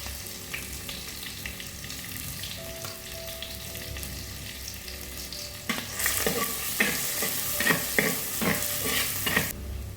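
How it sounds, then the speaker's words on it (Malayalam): Crushed garlic and shallots frying in hot coconut oil for an amaranth-bean stir-fry side dish: a steady sizzle bursts louder about halfway through with crackling and spoon scraping against the pan, close and with no voices. "അതിലേക്ക് ഞാൻ വെളുത്തുള്ളി, ചുവന്നുള്ളി ചതച്ചത് ഇട്ട് കൊടുക്കുന്നുണ്ട്."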